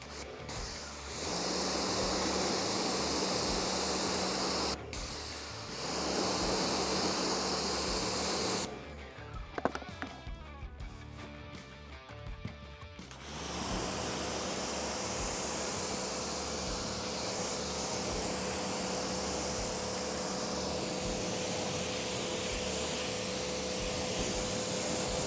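Steady hissing spray of water rinsing a car tire, a long continuous jet that cuts off briefly twice, with a short pause of clunks and handling noise midway before the spray resumes.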